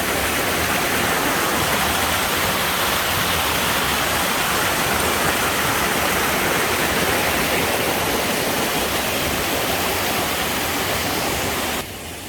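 A stream crossing on the Appalachian Trail, where rushing water makes a loud, steady, unbroken roar of broadband noise throughout, heard close up with no voices.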